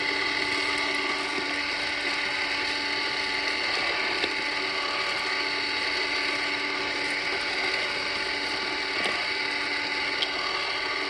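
An auger screw turns steadily in a Filastruder vertical hopper for plastic material, producing a continuous mechanical whir with faint ticking and occasional small clicks, close and even throughout.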